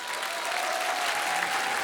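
Sustained applause from a studio audience at a televised masked singing show, steady and dense for the whole stretch with no voices over it.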